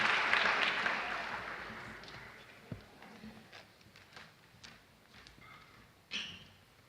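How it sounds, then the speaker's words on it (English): Applause from the crowd at a spring commencement ceremony for graduates fades from a full burst into a few scattered, isolated claps and small noises in a large room. "let's give these graduates a round of applause"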